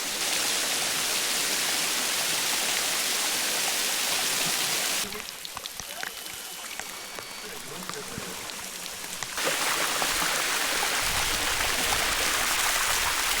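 Escondido Falls in Los Angeles, water dropping about 20 metres, gives a loud, steady rushing roar that softens noticeably for a few seconds mid-clip before returning at full strength.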